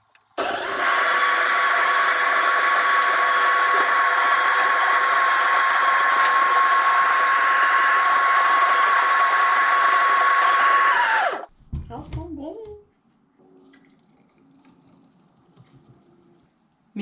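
A blender whirs loudly and steadily while blending fruit into juice, a continuous high motor whine for about eleven seconds that cuts off abruptly, followed by brief clattering and quiet room sound.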